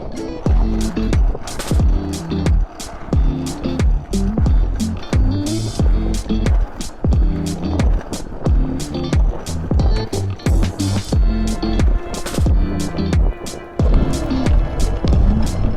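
Skateboard rolling on a road as the rider kicks, a loud, continuous wheel roar broken by regular thumping pushes.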